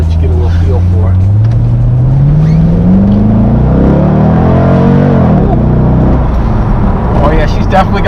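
A supercharged C5 Chevy Corvette engine revs and accelerates hard, loud and close, its pitch climbing steadily before easing and surging again, with a voice briefly audible over it.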